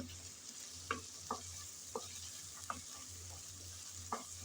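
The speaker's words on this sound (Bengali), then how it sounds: "নেড়ে চেড়ে ভালোভাবে শুটকি আর চিংড়ি কষিয়ে নিলাম।" Dried fish and shrimp being stirred and sautéed in a pan, a soft continuous sizzle under a low hum, with about six distinct scraping strokes of a spatula spaced roughly evenly.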